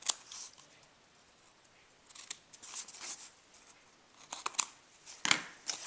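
Scissors trim tape-covered chipboard in a few short, crisp snips and crinkles, close by and fairly quiet, with pauses between cuts and no talking.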